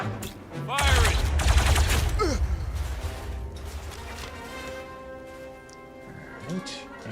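Rapid weapon fire in the Star Wars: Zero Company video game, a loud burst of repeated shots followed by ringing game effects fading out, with a voice talking over parts of it.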